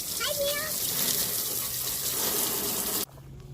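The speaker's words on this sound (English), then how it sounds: "Yeah, so simple microfiber sponge. Just wash everything down." Water runs steadily as a car is washed down with a microfiber sponge, a broad hissing splash that carries for about three seconds before cutting off abruptly, with a brief tonal squeak near the start.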